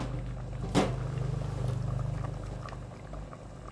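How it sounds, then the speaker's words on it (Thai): A pot of Thai khilek curry bubbles at a boil, a close low gurgling burble with a soft rhythmic pulse and one sharper splash early on. "เดือดปุปะ ปุปะ"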